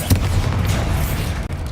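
Bombarda spell blast in Hogwarts Legacy: a sharp loud boom at the start, then a rolling rumble of debris and echoing impacts with a brief dropout near the end.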